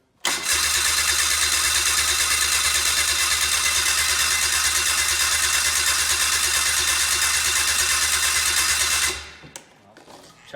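An engine that sat 30 days underwater cranks over on the starter for about nine seconds without firing, a loud, even, rhythmic churning that cuts off abruptly, followed by quiet.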